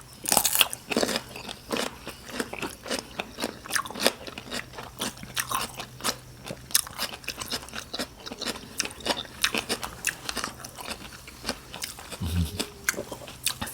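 Raw beef with crunchy vegetables is eaten close up. Loud, repeated crunching bites and chewing come in an uneven rhythm throughout, with a short low thump near the end.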